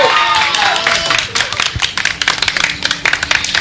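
Audience clapping at a speech, a dense loud burst of applause settling into steady rhythmic hand claps, with a voice talking over the start.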